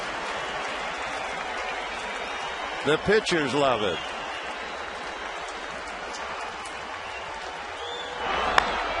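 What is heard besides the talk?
baseball stadium crowd applauding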